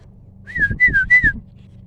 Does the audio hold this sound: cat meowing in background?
no